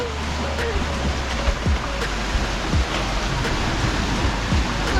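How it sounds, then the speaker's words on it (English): Big Atlantic ocean waves roll behind a sailing catamaran moving at speed, a loud, continuous roar of rushing water and surf with bursts of splashing, close by and filling the whole stretch. "Some big waves behind us."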